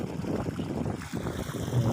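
Water gushing out of a 2-inch delivery pipe fed by a 3 HP BLDC solar pump drawing from a 40-foot well, a loud, close, churning rush that continues without pause.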